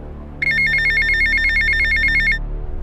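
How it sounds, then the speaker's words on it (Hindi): A telephone rings in a steady electronic trill, one continuous burst of about two seconds, loud and close over a low background hum. "दूसरे दिन डोली के पापा के पास अपने पड़ोसी रोहन का फोन आता है।"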